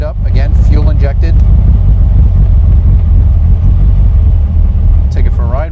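A 1960 VW Karmann Ghia custom with a fuel-injected four-cylinder engine starts and runs, giving a loud, steady low rumble that dominates, with voices briefly heard at the start and end.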